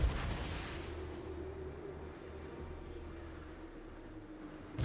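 Continuous artillery and gunfire in the fantasy strategy battle game Total War: Warhammer 3, a dense low rumbling barrage with steady noise throughout and no single shots standing out.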